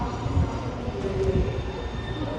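A CrossCountry train, a Voyager-type unit on the Bristol Temple Meads to Manchester Piccadilly service, rumbles into a station with a steady low roar and faint wheel squeal, continuous and fairly close.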